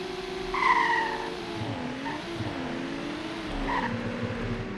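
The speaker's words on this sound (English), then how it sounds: "So here's a 0 to 60 test in the M2." A BMW M2 sports car launching hard from a standstill in a 0 to 60 run, with a loud rising engine note, a gear change and tire noise, close and without talk.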